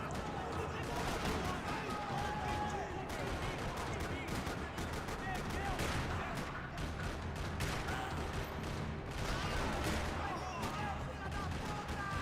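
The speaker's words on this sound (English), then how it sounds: "Another parking lot rattling with gunfire." Dense, continuous gunfire crackles and rattles in rapid bursts throughout a parking lot shootout in the video game Max Payne 3, with voices mixed into the chaotic noise.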